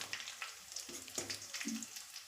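Ginger and garlic frying in oil in a home kitchen pan, a quiet sizzle with scattered crackles and a few soft scrapes of a spoon stirring, faint and close.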